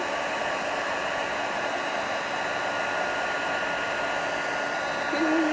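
A heat gun blows a loud, steady whooshing roar while melting embossing powder on a handmade birthday card, running unbroken for the whole span, close to the microphone.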